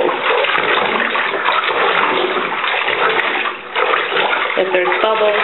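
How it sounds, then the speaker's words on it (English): A plunger churns cloth diapers in a tub of water during handwashing, making continuous close sloshing and swishing that dips briefly midway, with a voice speaking over the final second. "Just going to take our plunger and we're going to agitate this a little bit more."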